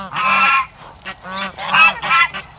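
Several loud, nasal honks from geese come in bursts, close by and overlapping, with short pauses between calls.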